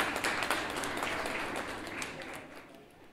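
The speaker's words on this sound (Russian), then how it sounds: "Конечно, под ваши аплодисменты" Audience applause at a Brain Ring quiz game, a dense wash of clapping from a crowd that holds steady and then slowly fades.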